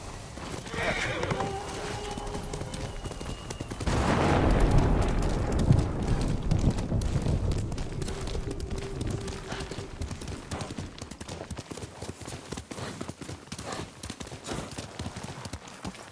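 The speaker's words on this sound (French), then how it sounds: "Tu es un bon cheval, Kage." Horse hooves clip-clop at a gallop with a loud whinny from a horse in the Ghost of Tsushima video game, the hoofbeats steady and close, rising into a louder rumbling burst midway before settling back into a rhythmic beat.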